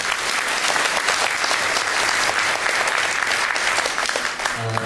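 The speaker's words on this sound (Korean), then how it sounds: "큰 박수 한번 부탁드리겠습니다." Enthusiastic crowd applause at a Democratic Party meeting in New York, loud continuous clapping filling the whole stretch, with a faint voice starting to speak at the very end.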